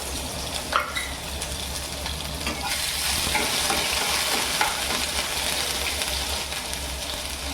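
Crushed ginger and garlic sizzling in a hot pan while being stirred, a continuous bright hiss with a few scraping clicks from the stirring, close and steady.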